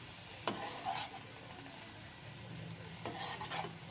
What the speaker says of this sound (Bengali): নুনের সঙ্গে শাকটা মিশিয়ে নেব